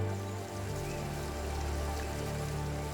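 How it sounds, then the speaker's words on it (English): Torrential rain falls during a cyclone amid rising floodwaters, a steady, even hiss of downpour with low sustained humming tones beneath it. "faced with rising waters and torrential rain"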